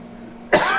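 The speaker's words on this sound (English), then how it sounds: "have to excuse my cough, guys." A single sharp, close cough bursts out suddenly after a stretch of quiet room hum, loud and raspy, trailing off briefly.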